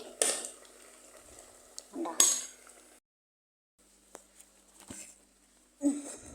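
Soaked flattened rice being stirred in a pan for avil chakkara pongal, with a few soft scraping and clinking spoon strokes near and fairly quiet, broken by a short silent pause.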